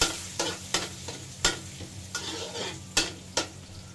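Garlic sizzles and fries in rendered ground pork fat while a utensil stirs and scrapes the pan in sharp, repeated strokes over a steady hiss, close and alone.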